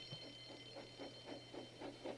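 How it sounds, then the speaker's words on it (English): A faint, steady electronic alarm tone pulses in regular beats over a constant hum, the ringing repeating several times without any voices; a breakdown alarm at a toy train railway. "Soon came the alarm."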